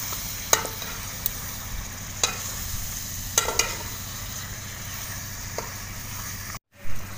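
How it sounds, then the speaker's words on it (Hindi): Potatoes fry in spices in a pan with a low, steady sizzle, broken by a few sharp scrapes of a spoon stirring them, and a brief quiet gap near the end. "अच्छी तरह मिक्स करते हैं और 5 मिनट तक भून लेते हैं।"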